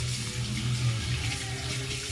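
Water runs steadily from a tap during rinsing, a continuous close hiss and splash with no talk over it.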